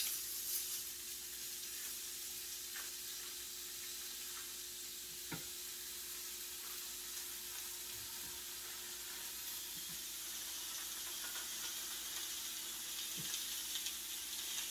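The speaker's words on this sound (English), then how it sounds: "We're going to put them down on the pan so we can start cooking" Sausage patties for a biscuits-and-gravy breakfast sizzle in a pan, a steady, even, hissing fry lasting throughout with a few faint knocks, quiet and close, with no talking.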